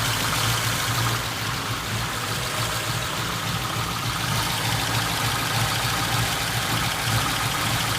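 A 1950 Ford 2-door's engine idling with the exhaust manifolds warmed up, a steady, even low rumble that runs close and unbroken throughout.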